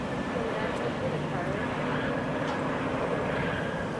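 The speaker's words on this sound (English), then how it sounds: "Coming in here, Delta Flight 2474 coming in from Huntsville." A Delta Boeing 717 airliner arriving at Hartsfield-Jackson Atlanta airport, a steady low jet roar that holds evenly throughout with faint background noise.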